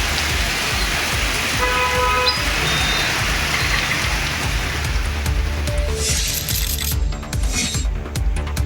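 Heavy rain pours steadily in Ooty, a dense continuous hiss close by with faint intermittent electronic beeps and mechanical clicks over it.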